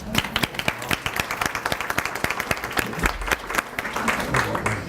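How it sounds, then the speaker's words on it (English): Applause at a county aging department's volunteer recognition dinner, a room full of people clapping steadily with sharp individual claps standing out, sustained for several seconds at moderate loudness. "You deserve an applause."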